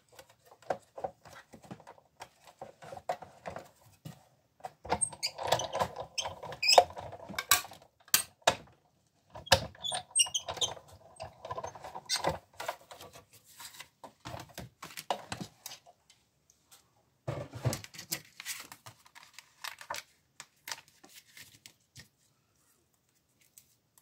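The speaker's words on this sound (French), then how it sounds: "Je repasse dans ma machine une seconde fois." Paper card cranked through a die-cutting or embossing crafting machine, producing intermittent clicking, ratcheting mechanical bursts with short pauses, fairly quiet and close.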